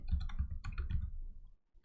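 Close, quick clicking of keys on a computer keyboard as a search term is entered, a run of taps over about a second and a half, a short pause, then a final louder tap.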